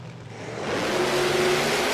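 A drag racing car's engine roars at Willowbank Raceway in Queensland, Australia, during a Queensland Drag Racing Championship round, swelling into a loud sustained howl as it accelerates down the strip, with no voices.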